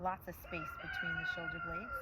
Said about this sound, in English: You might hear my rooster